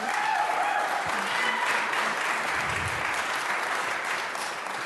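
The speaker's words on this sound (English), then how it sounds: "please hold your applause" A crowd at a Denver City Council meeting applauds steadily, dense clapping that holds at a moderate level throughout, with faint voices mixed in underneath.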